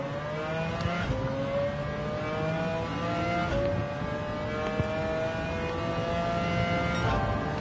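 An older McLaren BMW race car with a manual gearbox on the Sardegna track in Gran Turismo 7, its engine revving hard and climbing steadily through the gears with brief shift breaks, loud and continuous.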